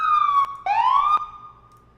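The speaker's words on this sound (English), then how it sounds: "the different cars will have different sirens" Emergency vehicle siren in EmergeNYC, a loud, close electronic wail sweeping down and then up in two quick cycles before tailing off into quiet.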